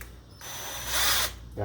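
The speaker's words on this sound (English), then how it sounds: "We're just going to drill a hole approximately in the location that you want it to be." A power drill bores a hole for a remote battery post stud on a classic boat, a loud steady whir that swells and peaks near the end, alone with no talk.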